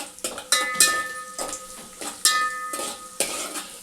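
Rice flour balls frying in oil until golden, with repeated clinks and scrapes of a utensil stirring in a metal pan over a soft background sizzle, close and fairly loud with no talking.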